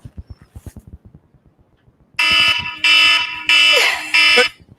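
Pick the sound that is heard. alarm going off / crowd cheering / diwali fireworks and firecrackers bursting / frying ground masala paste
alarm going off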